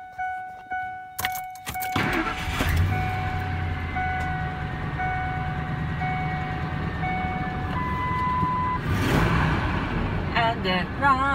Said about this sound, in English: And it runs.